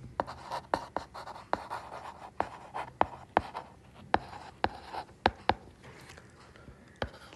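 Pen strokes scratch across paper during a Class 9 math lesson, coming as a series of short, sharp taps and scrapes in an irregular rhythm, close and fairly quiet.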